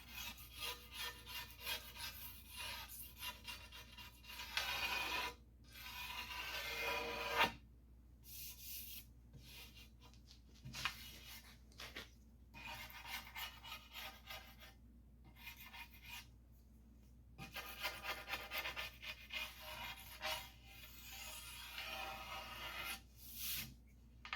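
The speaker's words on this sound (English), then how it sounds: "I've got a razor blade scraper that I'll use to scrape off any gunk" A razor blade scraper rasps across the rear glass of a 1951 Chevy truck, clearing gunk in repeated scraping strokes with short pauses between them, close but fairly quiet, no talking.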